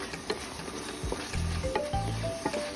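Browned chicken sizzles in butter for chop suey and is stirred, a moderate crackle broken by a few scraping stirs and soft knocks from the pan.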